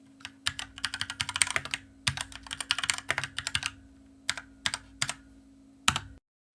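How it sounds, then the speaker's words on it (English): Rapid bursts of typing on a Cooler Master CK721 60% wireless mechanical keyboard, crisp close key clacks in uneven flurries separated by short pauses, over a faint steady hum, with no voices. "we're taking a look at the Cooler Master CK721 mechanical keyboard"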